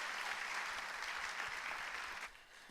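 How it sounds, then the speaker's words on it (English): Audience applause at a 1 Million Cups event in Fargo, a dense, even wash of many hands clapping together at moderate distance, sustained and then tapering off sharply near the end. "let's give them all a round of applause"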